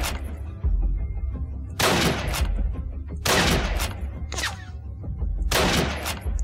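Bursts of Gatling gun fire in the first-person shooter Blade of Agony, four loud broadband volleys of roughly a second each, separated by short gaps with low rumbling game ambience beneath.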